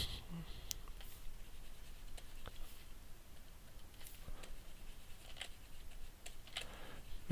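A pencil or stylus shades a sketch with a soft, continuous scratchy rasp, close and quiet, and a few sharper taps and strokes spread through it.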